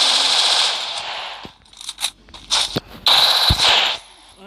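Gunfire in the video game Free Fire: rapid automatic bursts, loud and close, broken by short gaps and single sharp shots.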